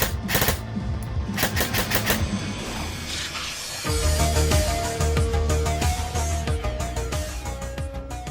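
An airsoft electric gun fires in quick bursts, rapid mechanical clacking in short rattling strings, up close, followed by a steadier buzzing stretch with tonal whine.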